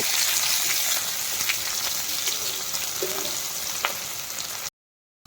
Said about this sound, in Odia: ପିଆଜ ତ ଭାଜି ହେଇଗଲାଣି